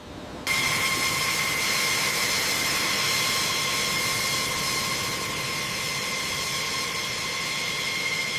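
Yak-130 jet trainer with twin engines running at full military power, a loud steady roar with whining high tones that starts abruptly and holds constant throughout, no voices present.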